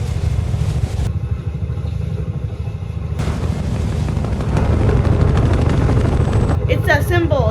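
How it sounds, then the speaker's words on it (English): A helicopter in a TV show scene gives a steady low rotor and engine rumble that builds slightly louder, heard under dramatic background noise and music rather than alone. "I hear a helicopter."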